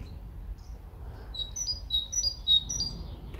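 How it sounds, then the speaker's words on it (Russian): Sparrows chirp and twitter outdoors at a dacha after rain, a run of bright repeated tweets building in the middle and end over a faint background rumble. "Да чего ж красиво птицы поют, а?"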